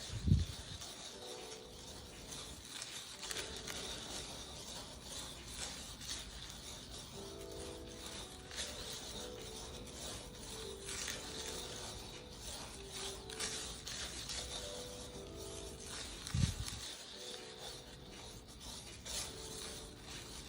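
Pigment being squished and worked together by hand into homemade watercolor paint, using gemstone and historic pigments: a steady, close, quiet rasping and rubbing texture with a few soft knocks, continuing for about twenty seconds with no talking.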